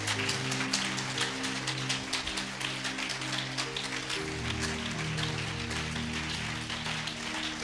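A church congregation keeps clapping during worship, a busy, even patter of many hands under sustained musical chords, loud and continuous throughout.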